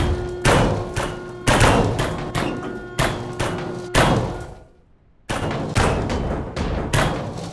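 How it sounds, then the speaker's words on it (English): Explosive charges go off one after another aboard a warship in the game Ship Graveyard Simulator 2, a loud series of heavy booming thuds with decaying rumbles, a brief silent gap, then more blasts. "Detonate everything."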